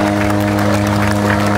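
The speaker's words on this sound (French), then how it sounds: "Merci d'accompagner avec applaudissement le team Flanders Valoise." A short, dense burst of crowd applause for a cycling team at the Paris-Roubaix 2024 start, loud and steady throughout.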